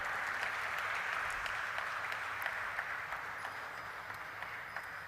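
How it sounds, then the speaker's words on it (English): Applause fills a stock exchange listing ceremony hall, a sustained, even clatter of many hands at moderate distance, with a few sharper individual claps standing out near the end. "Let's have a round of applause, ladies and gentlemen"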